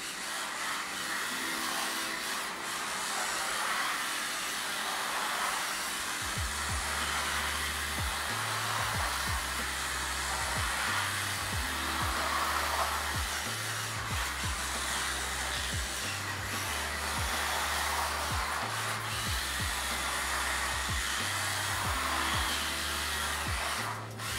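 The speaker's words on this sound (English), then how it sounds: "I think these plastic tires are a little bit too slippery for this hardwood floor I'm driving on" A Kamtom 1/32-scale AWD RC drift car with plastic tires drives on a hardwood floor: a continuous, close electric motor whine that steps up and down in pitch with the throttle, with no breaks.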